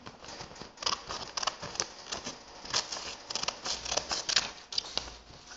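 Scissors snipping through paper while crafting a paper dog: a series of quiet, crisp irregular cuts and rustles over several seconds, close by and with no talking.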